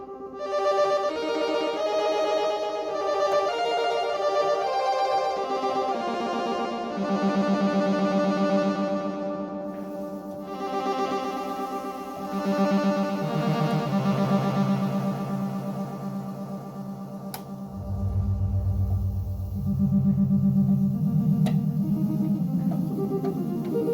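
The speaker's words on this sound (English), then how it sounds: "Which, if you put it through delay, which I'll do, sounds really cool." Korg MS-20 synthesizer patch run through delay, a loud, steady stream of buzzy sustained tones with echoing repeats and shifting pitches, dropping to deep bass notes near the end, with no talking.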